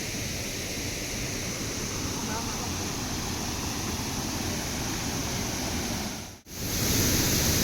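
A waterfall near Devrukh spills over a rock ledge in a constant, enveloping rush, with voices faintly present beneath it and a brief dip before the roar resumes.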